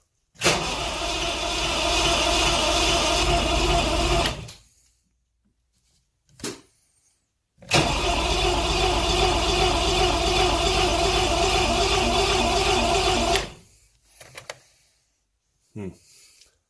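A car engine with a push-to-choke control cranks in two long, loud bursts of churning starter noise without catching, with silent pauses and a short extra crank afterward.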